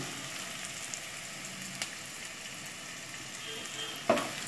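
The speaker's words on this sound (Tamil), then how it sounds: "மீடியம் ஃப்ளேம் வச்சாச்சு அப்படியே நம்ம வதக்கணும் இதை வெங்காயம் வந்து ரொம்ப வதங்க வேண்டிய அவசியம் இல்லை" Onions saute in a pan over a medium flame for mor kuzhambu, giving a soft, even sizzle throughout with a couple of brief utensil taps, one near the end.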